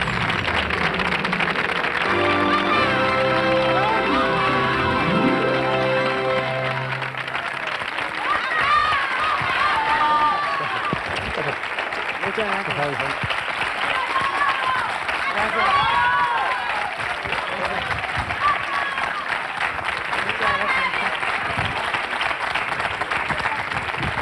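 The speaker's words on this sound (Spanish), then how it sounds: "El público ha venido motu propio y esta ovación no estaba ensayada." A television studio audience gives a long, sustained ovation, steady loud clapping and cheering that continues unbroken, with music fading out at the start.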